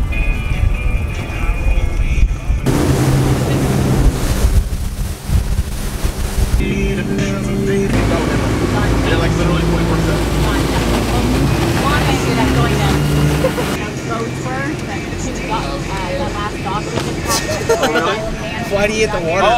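Jet skis ride out across open water, a steady, loud engine roar blended with wind and splashing that runs the whole time, with people talking over it.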